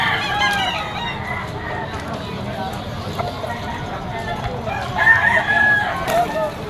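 Bull stag rooster crowing at a busy Malabon poultry market, one of several birds with clucking around, over a steady crowd din and people talking nearby.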